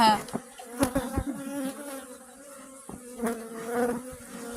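Honey bees swarm around a beekeeper at the hives, a steady close insect buzz with individual bees droning past, rising and fading over a few seconds, no talk.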